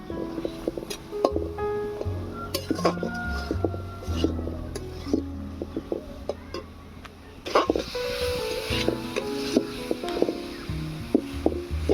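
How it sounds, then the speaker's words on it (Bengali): Star fruit cooks down in a pan with a little water while a spatula stirs it, giving irregular scrapes, knocks and metallic clinks against the pan over a soft background. "কামরাঙাটাকে দেখো ভালো করে কষিয়ে নিচ্ছি"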